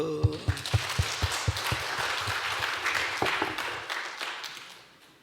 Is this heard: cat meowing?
no